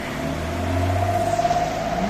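Cars crawl through heavy snowy traffic, their engines giving a steady, close low hum with a faint rising tone in the middle and a rough idle texture.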